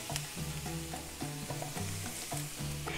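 Top sirloin steak sautés in a pan in a taco restaurant kitchen, a continuous dense sizzle under steady background music.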